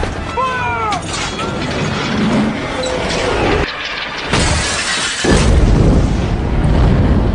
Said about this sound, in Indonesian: sebuah pelontar raksasa yang membuat ruangan Irwin hancur